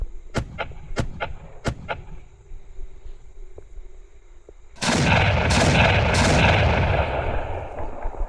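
Sharp cracks from a blue mini Bingo firecracker, set off during Deepavali, start the clip in a rapid burst of several close pops. A loud sustained crackling fizz follows, with a couple of sharper bangs inside it.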